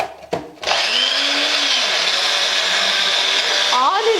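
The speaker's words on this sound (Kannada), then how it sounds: "ಇವಾಗ ಮಿಕ್ಸಿ ಮಾಡೋಣ." A kitchen mixer grinder blending mango ice cream, a loud steady motor whir that starts abruptly after a brief clunk and runs continuously, with a voice briefly audible over it.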